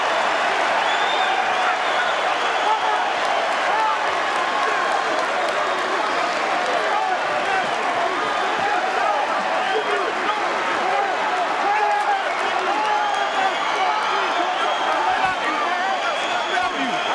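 Dense, continuous roar of a large arena crowd at a Floyd Mayweather Jr. boxing match right after his seventh-round knockout, loud cheering and clapping that holds steady throughout.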